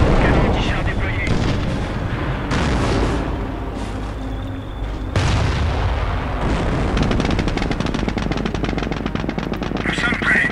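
Cannon and artillery fire in Company of Heroes during the Normandy battle for Hill 192, heavy booms and bursts of gunfire crashing repeatedly, with rapid machine-gun rattle toward the end and a voice speaking amid the barrage.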